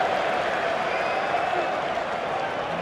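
A large cricket crowd cheers and applauds in a stadium, a steady broad roar of many voices and clapping held at an even level from start to finish.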